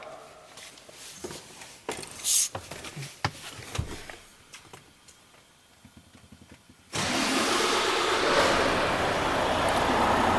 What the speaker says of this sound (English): And now I start the truck.